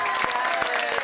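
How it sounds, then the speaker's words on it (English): Studio audience applause, a steady dense wash of clapping at moderate loudness with no voices over it. "Let's clap him in."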